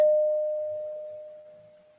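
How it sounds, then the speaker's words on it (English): A bell-like metal object rings out once with a clear, pure tone and reverberates steadily, slowly fading over a couple of seconds with nothing else around it. "this thing really rings like a bell and it reverberates for quite a long time"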